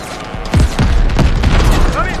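Heavy booming cannon blasts in Call of Duty: Vanguard fire in quick succession, loud and close, overlapping one another in a dense barrage.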